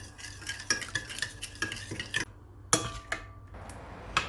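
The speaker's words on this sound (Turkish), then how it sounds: "Şeker eriyene kadar karıştırdım." Spoon stirring sugar and salt in a bowl for poğaça dough, a series of quick scraping clinks in uneven bursts with brief pauses, close and moderately loud, no talking.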